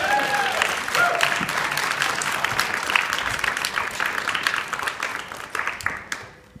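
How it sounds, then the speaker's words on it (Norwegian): Audience applause at a youth arts festival, a full burst of many hands clapping that stays strong with a few louder claps on top, then thins and fades out near the end, with some voices mixed in. "Applaus."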